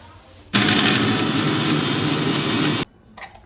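A kitchen mixer grinder runs at full speed for a little over two seconds, blending green chutney of chili, garlic, coriander, salt, sugar, lemon and peanuts. The whir is loud and close, starts abruptly and stops sharply, followed by a faint rattle.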